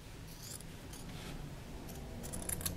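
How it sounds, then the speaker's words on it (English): Scissors trimming the fabric corner of a large three-pocket purse during sewing: a few soft, quick snips close by, quiet and brief, with faint rustling and a low room hiss between cuts. "so I could trim my other corner"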